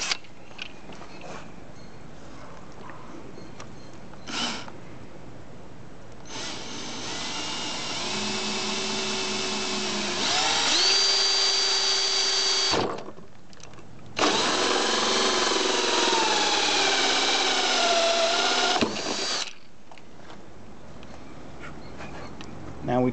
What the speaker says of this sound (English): Now we're ready to drill that hole.